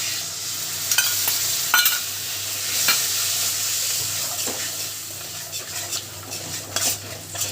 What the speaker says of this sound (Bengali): দই দিয়ে আমাদের মশলাটা কষানো হয়ে গেছে তেল ছেড়ে দিয়েছি